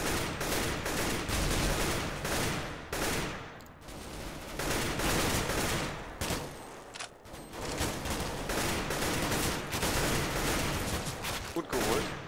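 Rapid bursts of gunfire crackle in Counter-Strike: Global Offensive, with dense repeated shots broken by short pauses and continuing throughout.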